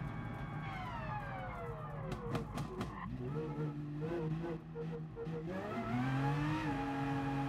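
Race car engine in Gran Turismo Sport, a steady whine rising and falling through gear changes as the car accelerates, with a brief dip midway and a climbing pitch toward the end, alone without speech.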